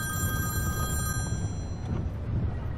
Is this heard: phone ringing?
yes